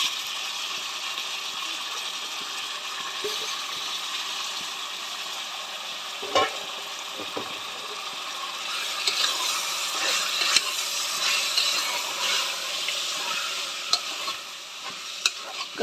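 Washed mutton pieces frying in oil with softened onions and green chillies for a curry, giving a dense continuous sizzle with occasional clinks and scrapes of stirring, close and steady, no voices.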